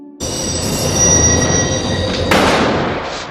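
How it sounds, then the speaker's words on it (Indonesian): A loud train rumbles past close by, with high metallic wheel squeals ringing over the heavy roar, which surges midway. "Suara kereta yang lewat menjadi sangat keras dan mata Michael terlihat membara."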